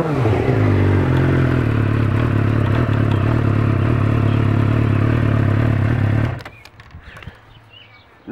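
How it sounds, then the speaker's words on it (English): Suzuki GSXR motorcycle engine idling with dead gauges, a loud close steady rumbling idle with mechanical clatter for about six seconds before it shuts off, leaving near silence. "The bike runs fine."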